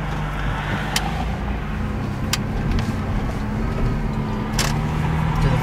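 A car engine with the exhaust sounding plugged, a steady low droning rumble with a muffled, choked tone, loud and close, broken by a few sharp clicks.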